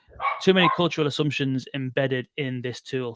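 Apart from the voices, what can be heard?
dog barking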